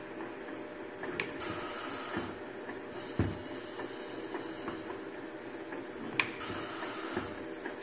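Bottle filling and capping machine with an adjustable rotating table, running with a continuous mechanical clatter and hiss, punctuated by sharp clicks and a few louder knocks, no talking.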